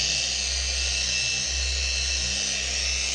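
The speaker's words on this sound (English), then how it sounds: "So I'm just on a medium speed on the machine polisher, and we just work that into the paint." Machine polisher running steadily at medium speed, working polish into car paint with a stiffer pad; a continuous loud whirring drone with a brief dip partway through, no talking.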